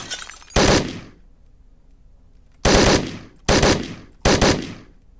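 Four loud, close shotgun blasts in Hotline Miami, each a sharp burst with a short decaying tail, the first on its own and the last three in quick succession after a quiet gap.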